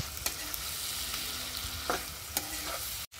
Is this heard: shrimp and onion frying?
yes